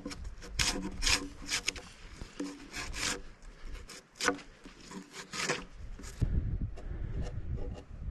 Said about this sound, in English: When you bark a lot of trees, you sleep good.